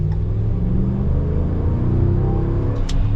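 A Hydro Blue Ram 1500 Sport pickup truck accelerates without downshifting, its engine giving a loud, close, steady low rumble that builds slightly over a few seconds.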